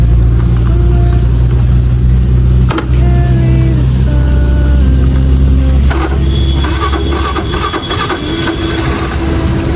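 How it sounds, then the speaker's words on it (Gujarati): A Bullet motorcycle engine runs loud and close with a deep, steady throb and a few brief knocks, and no talking. "તો ગાડીને ચાલુ કરી લઈએ આપણે."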